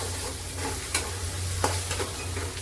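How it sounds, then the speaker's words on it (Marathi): Masala sizzling in hot oil in a pan while being stirred, a constant close frying hiss with a few scrape and clatter accents of the spoon, no talking. "मसाला तेलामध्ये भाजला आहे"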